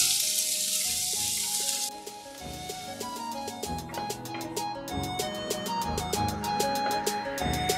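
Finely chopped large onion fries in oil in a kadai, giving a bright, hissing sizzle for the first couple of seconds before rhythmic background music takes over and the frying fades beneath it.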